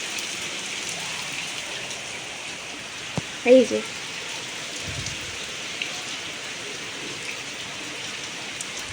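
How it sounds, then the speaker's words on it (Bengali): Heavy rain pouring down steadily as an even, dense hiss throughout, with a brief voice speaking once partway through. "বেশ ভাল লাগে কিন্তু এরকম জোরে জোরে বৃষ্টি পড়লে"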